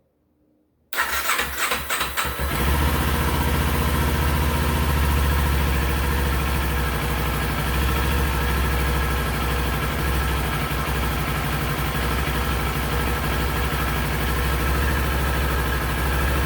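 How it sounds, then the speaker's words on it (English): A 2019 Kawasaki Ninja 400 motorcycle, fresh from a spark plug change, cranks briefly and fires up, then settles into a steady, loud, close idle that runs on evenly with no talking. "I'm going to go ahead and try to fire it up and see if it fires."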